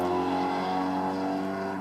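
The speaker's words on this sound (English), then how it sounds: "Somebody needs a new exhaust." A passing car with a loud, worn exhaust gives a steady, droning engine roar that fades slightly toward the end, heard alone with no talk.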